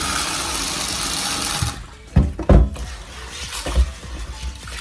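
Job's tears grains washed in water, a steady rush of running water that drops away, followed by a few close splashes and sloshing sounds of the grains being swirled.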